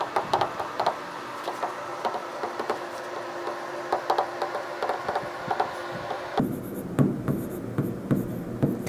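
A pen scratches quickly across paper while a maths word problem is worked out, with rapid close strokes and small taps that carry on steadily, and the room tone changes partway through.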